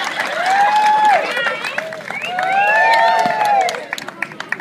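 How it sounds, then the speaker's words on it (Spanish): At a street film shoot, a crowd cheers and whoops loudly, with scattered clapping that turns into louder, distinct claps toward the end. "Muy bien, aplaudiendo a todos, por favor."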